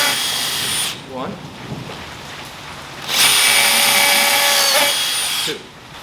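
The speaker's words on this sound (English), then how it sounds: "that creates those pocket holes right there where we can drill it in this way" A power drill bores pocket holes into a small wooden frame in a workshop, with two loud, close whirring bursts of several seconds each, separated by a quieter pause.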